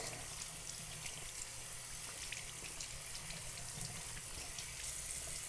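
Tap water runs steadily into a sink while items are washed out, a constant hiss with faint splashes and no talking.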